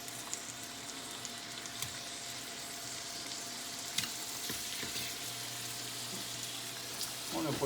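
Shrimp frying in butter in a pan, a steady bright sizzle with small pops and scraping clatters, moderately loud and continuous, with no voices.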